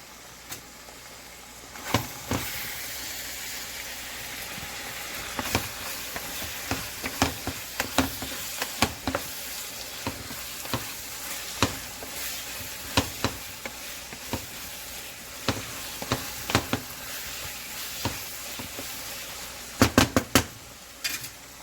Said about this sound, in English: بدي أخليه شوي يقلي شوي